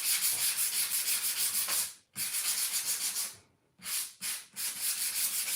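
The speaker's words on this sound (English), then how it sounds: "I'm going to sand this lightly" A DIY craft piece sanded lightly by hand: loud, close, rhythmic back-and-forth strokes in quick runs, with two brief pauses and a few short separate swipes near the end.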